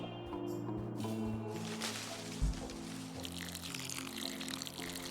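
Water pours for a drink in a steady, quiet trickle and slosh, with a brief louder clunk midway, heard alone at low level against a faint background hum.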